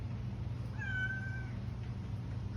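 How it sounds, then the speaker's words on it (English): A young tomcat gives a single clear meow in a workshop, a short tonal call over a steady low machine hum. "he's a little tomcat"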